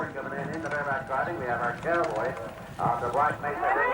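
Horses' hooves clip-clopping in an American Indian rodeo, an irregular clatter of hoofbeats heard under a steady narrating voice.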